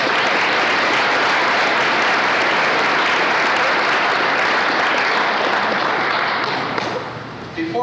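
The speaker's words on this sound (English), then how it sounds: "I'd like to give them a round of applause." An audience at a regional mobility event claps loudly and steadily in dense, sustained applause that fades slightly at the very end, with some faint voices underneath.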